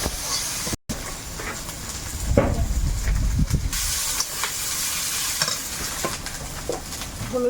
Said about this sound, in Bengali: তেলের মধ্যে একটু গোটা জিরে আর দেবো পেঁয়াজ কুচি আদা রসুন বাটা কাঁচা লঙ্কা সব দিয়ে দিলাম দিয়ে এবারে ভেজে